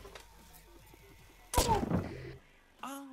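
In the VR game I Expect You to Die, a gun fires through a mail slot: one sharp, loud bang with a rattling, ringing tail that cuts into quiet tonal sounds, followed by a brief tone at the end.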